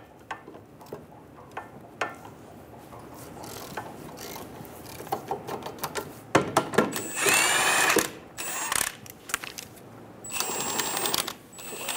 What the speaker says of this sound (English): Using a 15mm socket, remove the caliper bracket bolts.